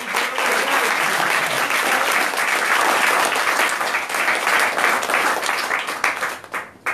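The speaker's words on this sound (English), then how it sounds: "So give him a round of applause." Sustained applause from an audience honoring Mr. Shaw after his introduction, dense steady clapping that holds loud for about six seconds, then thins and tapers toward the end.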